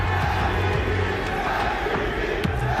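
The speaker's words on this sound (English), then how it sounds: "I can barely hear a word you're saying because the crowd are chanting 3 letters" A packed esports arena crowd at a grand final chants in unison, a dense roar of many voices filling the space continuously and loudly with no break.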